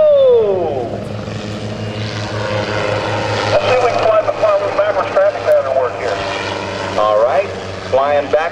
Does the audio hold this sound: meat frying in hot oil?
no